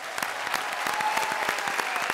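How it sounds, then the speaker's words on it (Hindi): A studio audience at an Indian comedy show applauds actor Anil, steady dense clapping from a crowd that holds at an even level throughout, with no voices over it. "अनिल जी के लिए थोड़ी बहुत तालियां हो जाए"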